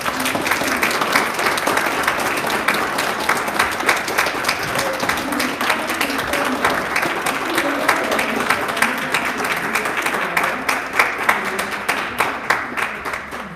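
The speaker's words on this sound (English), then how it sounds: "Let's give a round of applause." An audience at a gallery talk on art and natural history claps after the presentation ends, a loud, sustained round of applause with individual claps growing sharper and more distinct toward the end.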